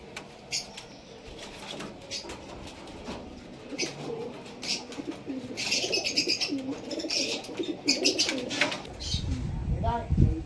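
Kamagar pigeons coo softly and chirp while being handled, with flapping and rustling of movement rising toward the end; a person talks over them.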